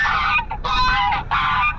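Ayam Cemani chickens on a farm let out loud, close, honking squawks in three overlapping bursts with brief gaps between them and no talking.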